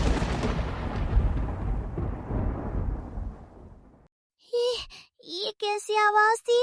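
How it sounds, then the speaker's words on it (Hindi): A loud, long rumble of thunder rolls and slowly fades out, then a voice speaks in short bursts after a brief silence. "घोंसले में भी दूर से बादलों के गरजने की भयानक आवाज सुनाई देती है"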